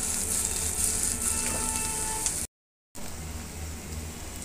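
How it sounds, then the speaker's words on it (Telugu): Sliced okra fries in a pan: a constant crackling sizzle hisses close by, cut by a brief gap of total silence near the middle before resuming. "జిగురు లేకుండా చూడండి ఎంత చక్కగా ఫ్రై అవుతుందో."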